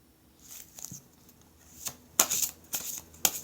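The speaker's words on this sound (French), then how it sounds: "je vais vous effectuer ce tirage avec l'oracle des fées" Oracle cards being shuffled for a fairy card reading: soft papery riffles and taps building into several sharper bursts of card flicks toward the end, close and quiet, with no talking.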